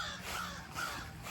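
Crows cawing outside: two short, harsh caws in quick succession, heard over steady background noise.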